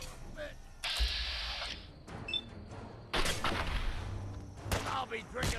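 Gunfire in the video game Fallout 4 Far Harbor, heard as bursts of shots and booms layered over dense, busy game audio.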